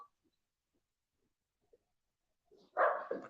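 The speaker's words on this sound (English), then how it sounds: "let me go tell my dog to be quiet" A dog barks indoors, a couple of gruff, close barks breaking out after a near-silent stretch with only faint ticks and knocks before them.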